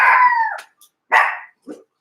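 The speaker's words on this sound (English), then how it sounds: "whenever I say cloud chasers, my dog is just going off" A pet dog lets out a drawn-out howl, then a sharp bark and a short yip, close to the microphone with quiet gaps between the calls.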